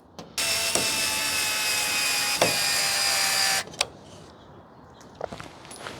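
A power drill whirs steadily for about three seconds as it drives non-magnetic screws into a wall bracket for a Eufy S340 outdoor security camera. It stops abruptly and is followed by a few faint clicks and knocks.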